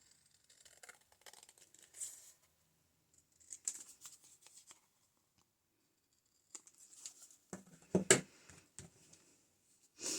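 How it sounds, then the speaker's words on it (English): Scissors snip out glued paper pieces for a handmade boho journal: scattered, quiet cutting and crinkling bursts separated by pauses, with a louder cluster of snips near the end. "So this glue's all dry now, so I can cut this out."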